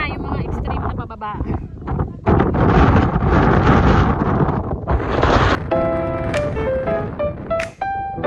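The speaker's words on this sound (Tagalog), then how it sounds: "sobrang hangin pagbaba" Strong wind on a mountain descent of Mt. Batulao buffets the microphone in loud, rumbling gusts, with brief voices and scattered clicks and tones breaking through near the end.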